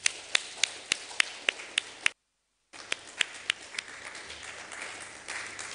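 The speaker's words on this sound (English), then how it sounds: "Let's give him another round of applause." Sparse applause from a small lecture audience at a 2022 founder's week programme: distinct individual claps in a steady rhythm, a short stretch of silence, then more scattered claps fading into a softer patter.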